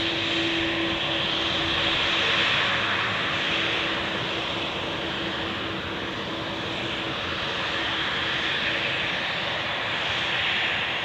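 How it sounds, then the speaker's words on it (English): Airbus A330 airliner at Zurich Airport, a steady broadband jet roar holding loud and even throughout with a faint tonal whine, no voices. "A330. Fortunately not an A340 as announced earlier"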